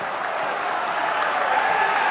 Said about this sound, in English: I thought the crowd was loud